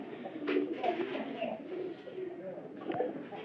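Domestic pigeons coo in a loose, repeated rhythm in a Bangladeshi pigeon market or loft, with soft throaty calls overlapping. Nearby voices and general crowd murmur run underneath.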